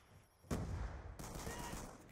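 A burst of rapid gunfire from the Black Ops 2 shooter game opens abruptly and keeps rattling on, loud and dense, with a second wave of shots joining partway through.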